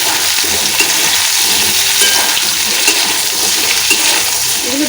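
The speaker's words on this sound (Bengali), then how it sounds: "ওলগুলো ভেজে নিচ্ছি, ওল আর আলুগুলো ভাজা ভাজা একটু করে নিই" Pieces of elephant foot yam and potato fry in a pan for a vegetarian yam dish, giving a steady, loud broadband sizzle with faint crackles throughout and no talking.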